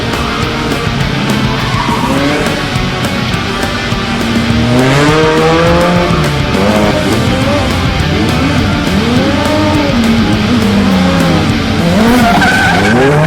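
Competition race cars at a motor show screech and skid loudly and continuously, tires squealing in long sweeping tones over a roaring engine bed, close and sustained with no talk.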